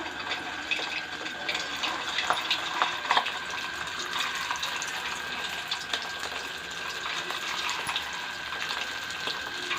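Aloo kurkure pieces frying in hot oil on a stove, a steady, busy crackle and sizzle that continues evenly throughout at moderate loudness, with no voices.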